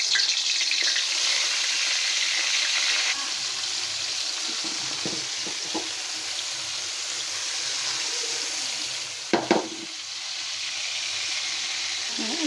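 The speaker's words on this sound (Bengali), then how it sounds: "এদিকে আমার মাছটা ভাজা হতে থাক" Fish fries in hot oil with a steady, close sizzling hiss that eases slightly after a few seconds, with a brief clatter near the end.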